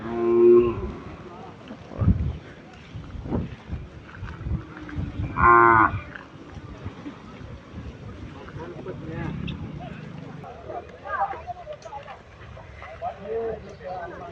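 Cattle and bullocks moo repeatedly amid a busy outdoor crowd at the Avani Sri Ramalingeshwara cattle fair in Kolar district, low drawn-out calls rising over steady chatter and background bustle.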